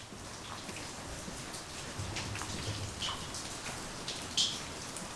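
Steady, soft rain patters and drips on surfaces nearby, with a few brighter droplet ticks standing out; no talking.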